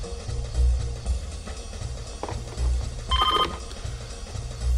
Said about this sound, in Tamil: ஃபோன் அடிக்கிற சத்தம் உனக்கு கேட்கலையா?